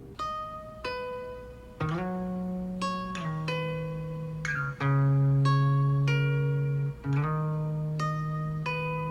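Two effected electric guitars play together, a low sustained line under brighter plucked notes, layered and ringing with a smooth, processed tone.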